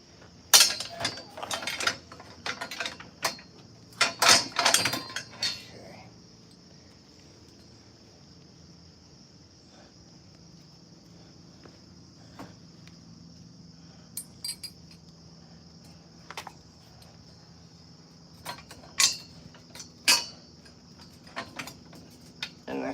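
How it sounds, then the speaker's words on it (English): Straps ratchet and click as they are cinched around outdoor gear, coming in short bursts of mechanical clicking and rattling with quiet gaps between them. "I'll probably put 2 straps on it, just to keep it tight"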